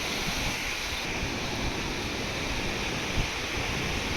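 A flooded river rushes through a narrow channel at Chas village near Rajgurunagar, a dense, constant roar of churning water filling the scene without a break.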